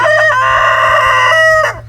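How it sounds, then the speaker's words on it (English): A rooster at a homestead chicken coop gives one loud, close crow that rises, holds and falls away, with no talking. "chicken that will be going in the pot soon."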